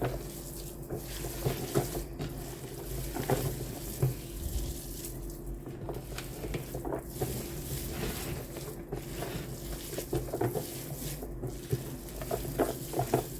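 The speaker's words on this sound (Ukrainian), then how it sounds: "Перемішую" A spoon stirs cabbage roll filling of carrot and meat in a pan, with soft repeated scraping and a faint sizzle running steadily throughout, fairly quiet and with no talking.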